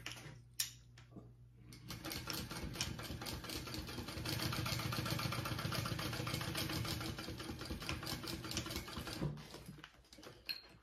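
A sewing machine runs steadily for several seconds stitching down a bag flap, a fast even mechanical whir and patter close up, starting and stopping with a few clicks at each end.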